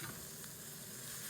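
A fillet steak searing in a hot pan, producing a steady, close crackling sizzle that stays even and unbroken for its short length, with no voices.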